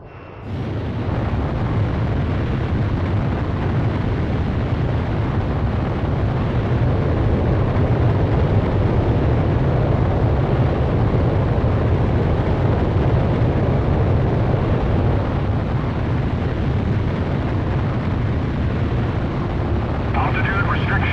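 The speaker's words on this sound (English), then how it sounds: "You are cleared for takeoff" A fighter jet spools up and roars down the runway for takeoff in the flight game Ace Combat Zero, a loud, sustained broadband jet roar that holds steady for about twenty seconds, with no voices.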